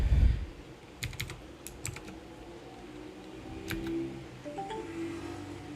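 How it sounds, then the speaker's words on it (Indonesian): Fingers tap out a short chat message on a computer keyboard, a few quick clusters of light key clicks with brief pauses between them in a quiet room. "Kita ketikkan hello"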